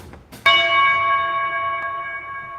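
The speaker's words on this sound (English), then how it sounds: "I'm going to start ending every one of the trailers that I make with a huge bell sound" A single huge bell strike closes a comic book crowdfunding trailer, landing loud and sudden after brief low noise, then ringing on with steady sustained tones that fade only slightly.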